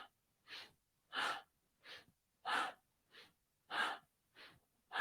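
Powerful, audible yoga breathing: about eight alternating inhales and exhales, each roughly half a second long, evenly spaced and close with no talking between them.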